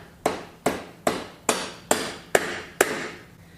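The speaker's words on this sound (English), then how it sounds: "a rubber mallet or a hammer with a piece of wood on it and just tap the axle out" Seven evenly spaced sharp knocks of a rubber mallet tapping out a Triumph Daytona 675 motorcycle rear axle, each ringing briefly before the next blow, close and clear.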